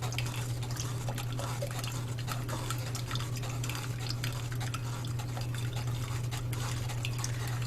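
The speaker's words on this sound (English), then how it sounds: "I'm going to take and stir it around." A spoon stirs blood building syrup in a container, a busy run of soft scraping and clinking taps over a steady low hum, close and continuous.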